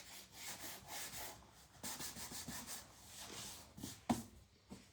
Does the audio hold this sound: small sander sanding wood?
yes